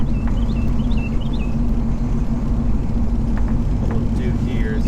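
A 1971 Pontiac Firebird Formula 455 rolls downhill, its engine a steady low rumble under road noise, with someone talking over it.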